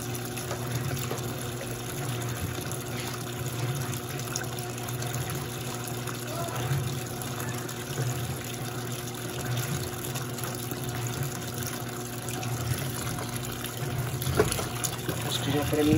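An Electrolux Turbo Flex LQ11 washing machine fills with water, giving a steady rushing gush with a low continuous hum throughout; someone speaks in Portuguese.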